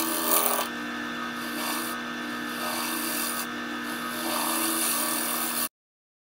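Wood lathe spinning at around 1200 RPM while light cuts are taken on a tobacco pipe held by small chuck jaws, giving a steady raspy scraping hiss over a constant motor hum that runs without pause, then stops abruptly.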